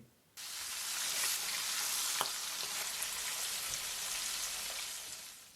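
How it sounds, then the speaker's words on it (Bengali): Fish heads frying in hot oil for a Bengali muri ghonto, a steady loud sizzle starting abruptly after a brief pause and holding evenly throughout with faint crackles, no voices. "আমি মাছের মাথাগুলো দিয়ে দিচ্ছি হালকা করে ভেজে নেওয়ার জন্য"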